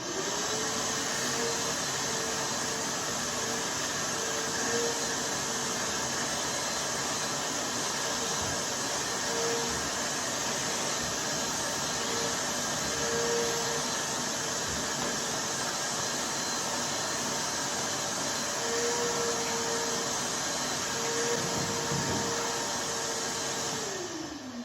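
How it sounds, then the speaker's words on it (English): A shop vac with a small brush head vacuums the inside of a canoe hull, a loud, steady, unbroken whine and rush of air lasting the whole time, with no voices. "On this, I'm just using my shop vac, and I've got a little brush head on it so I don't scratch the inside of the canoe."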